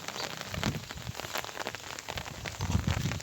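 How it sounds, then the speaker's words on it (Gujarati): Steady rain pours down in a Gujarati outdoor setting, a dense continuous patter on surfaces with heavier drops thudding nearby, no voices. "હાચું વરસાદ આવી ગયો"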